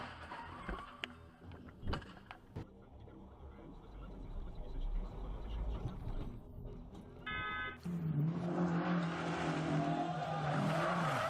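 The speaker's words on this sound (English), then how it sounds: "Both cars were going quite fast, resulting in one car skidding and losing control." A car travelling fast on a road skids and loses control, with scattered bumps and rumbles followed by a loud rising tire squeal and screech near the end.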